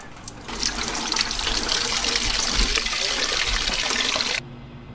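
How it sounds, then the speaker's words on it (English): Coolant draining from the radiator of a 1989-2001 Jeep Cherokee XJ, a steady close splashing pour lasting about four seconds before cutting off abruptly. "Now while the radiator is draining,"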